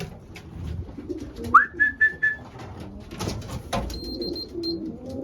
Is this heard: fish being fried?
no